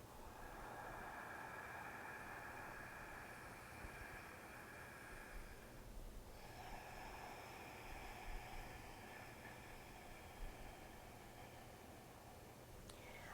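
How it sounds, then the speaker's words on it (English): Slow Ujjayi yoga breathing, a soft steady rushing hiss through the throat that holds continuously with one brief pause midway, quiet and close with no talking. "when we do Ujjayi breathing, that adds the sound, and that sound is very calming to the mind"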